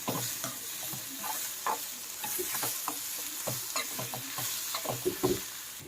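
A spatula stirs gooseberry chutney with garlic paste in an oily pan, giving repeated scraping and clacking strokes over a soft sizzle, at a moderate level close by.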